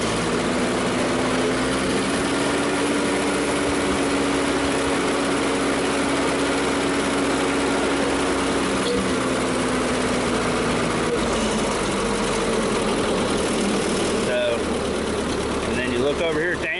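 A 1952 Ford 8N tractor engine runs close by and is throttled up, a loud steady rumbling drone with a pitch shift partway through and a voice talking over it.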